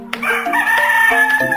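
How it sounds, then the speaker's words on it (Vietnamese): A rooster crows nearby in one loud, sustained call with a harmonic, wavering tone, heard alone with no talk over it. "Ghét con gà này quá."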